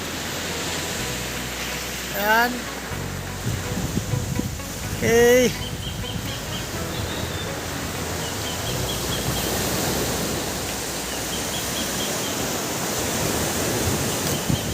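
Sea waves wash onto a beach shore beside an evening bonfire, a steady broadband surf roar running through, with people briefly talking over it.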